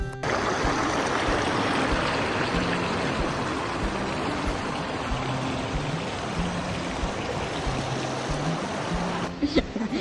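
River water running steadily while people swim and play during a Pampanga outing, a continuous close rush and splash with faint voices and a brief sharper splash near the end.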